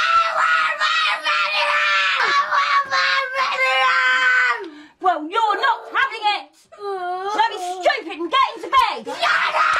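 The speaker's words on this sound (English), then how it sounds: "Why is it so funny when people scream in British accents?" A British child screams and wails at bedtime in a home setting, a loud sustained high cry followed by broken, wavering shrieks and sobbing, with no other sound between the outbursts.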